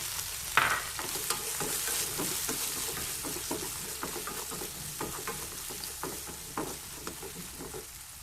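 Crab stir-fried in a few spoonfuls of hot cooking oil in a pan for tamarind crab: steady close sizzling broken by regular spatula scrapes and stirs, with no voices.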